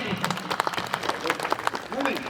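Applause and clapping from an audience at a Hindi poetry recital, a kavi sammelan, rising in patches over steady crowd murmur, with voices speaking through the short burst.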